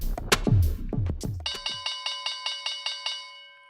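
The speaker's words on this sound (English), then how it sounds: "The world's worst bell in my hand." A handbell rung to close the stock market starts with a few uneven clangs, then settles into a steady run of about eight bright, ringing strikes that fade as the ringing stops.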